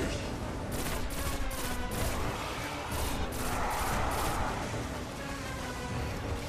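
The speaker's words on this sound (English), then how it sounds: "Did you just make me draw my heavy machine gun?" Heavy machine gun firing in Destiny: The Taken King, a rapid, steady burst of loud, rattling shots repeating evenly for several seconds over dense game noise.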